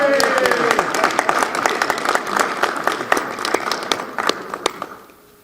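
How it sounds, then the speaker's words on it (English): An audience at a mayors' conference claps for a Harlem Globetrotter, a fairly close round of applause with distinct individual claps that thins out and fades toward the end. "Let's give a big round of applause to Globetrotter Robert Z. Hunter"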